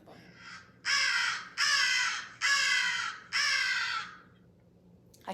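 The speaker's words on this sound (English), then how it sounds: "This is what the crows sound like." Four loud, harsh crow caws in an even sequence, each drawn out and closely spaced, played back alone against a quiet background.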